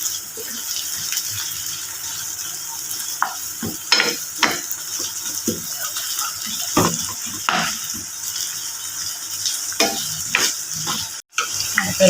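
Onions frying in ghee for an egg and onion khagina, a steady close sizzle broken by sharp spoon scrapes and clatters against the pan, no voices.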